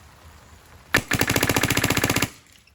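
A rifle fitted with a PWR barrel fires during velocity testing: one rapid automatic burst of roughly eighteen loud, close shots in just over a second, then it stops.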